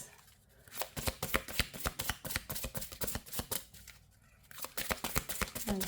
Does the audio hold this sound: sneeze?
no